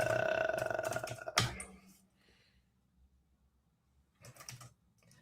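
A quick burst of close keyboard typing, clicks blurring together, then near silence before a few more keystrokes resume at the end.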